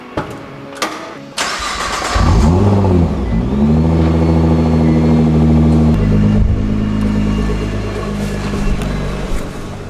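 A Nissan GT-R with an aftermarket mid-pipe exhaust starts up with a few sharp clicks, then its engine barks into a loud rev that swells and settles, followed by a sustained raised idle and another rise near the end.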